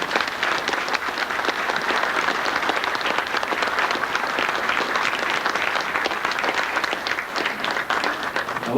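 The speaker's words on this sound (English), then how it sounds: "how about a nice round of applause for Ollie Silva's family?" A hall full of people at a Hall of Fame induction claps in sustained, even applause for Ollie Silva's family, a dense wash of hands throughout with no pauses.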